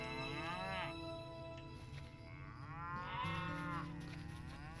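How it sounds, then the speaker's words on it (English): Nervous lowing from a milk cow in the fantasy video game LOTRO, two drawn-out moos in succession over a steady game ambience, loud and close with no talking. "You approach the milk cow and she lows nervously."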